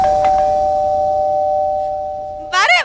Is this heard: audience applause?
no